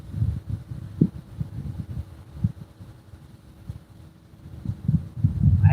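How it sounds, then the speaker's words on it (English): Gusty wind on a windy outdoor fishing day buffets the microphone, making uneven low rumbles and thumps that swell and fade over several seconds. "Sorry about the wind, folks."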